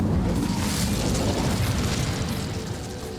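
An Incendio fire spell is cast in Hogwarts Legacy: a loud, dense roaring blast of flame that holds steady, then eases slightly toward the end.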